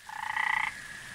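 A single frog croaks at a pond in the video game Memoranda, a fast, rippling, buzzy call lasting about half a second, close and clear against quiet background.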